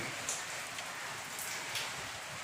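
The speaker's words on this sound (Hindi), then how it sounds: "देखिए, जोरों से बारिश हो रही है, एकदम बादल काला किए हुए हैं।" Heavy monsoon-season rain pours steadily outdoors under dark clouds, a dense continuous hiss of drops on surfaces with a few brief louder splashes, no voices.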